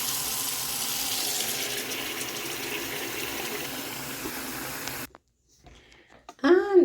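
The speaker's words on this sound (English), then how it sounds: "I'm gonna fill the sink with a little bit more water" A kitchen or bathroom sink fills from the tap, a steady rushing stream of water running for about five seconds before stopping, followed by near silence and a brief louder clatter at the end.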